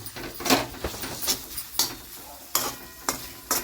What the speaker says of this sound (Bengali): এবার এটাকে আমরা টমেটোগুলোকে গলাবো।